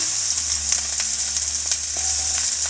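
Onion sautéing in a pot for a vegetable soup, a loud, even sizzle with occasional soft taps and stirs close by.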